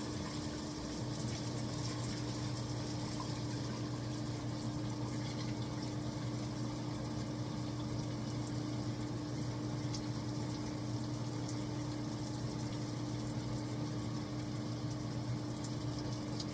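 Shower water runs in a steady, unbroken hiss and spray, fairly close and even in level for the whole stretch, with a low hum beneath and no talking.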